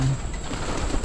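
Pigeons cooing at a loft, low soft coos blending into a steady outdoor background, brief and close.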